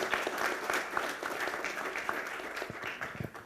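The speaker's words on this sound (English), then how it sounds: "Ladies and gentlemen, another round of applause." A seminar audience at an Indian Navy event gives a round of applause, a dense, continuous patter of many hands clapping at an even level for several seconds.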